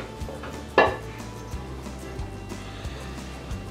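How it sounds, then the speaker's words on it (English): Potatoes, onions, carrots and celery tumble into a crock pot around a black bear roast, with one sharp clatter near the start and then softer knocks and thuds as the pieces settle. "we're gonna add the rest of our veggies, our potatoes, the rest of our onions, carrots, celery"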